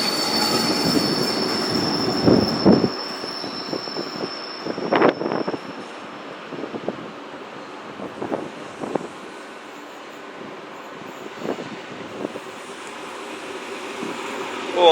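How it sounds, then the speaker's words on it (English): Cross-country passenger train 1B50 to Plymouth, led by power car 43239, arriving at Bristol Temple Meads station, with a sustained high-pitched wheel squeal over a rumbling rail roar and repeated sharp metallic squeaks and clanks. "This is 1B50 running the delayed cross-country service"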